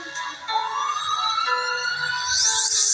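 An ambulance siren wailing loud and close, its rising and falling tone sweeping steadily and climbing sharply near the end, with no talk over it.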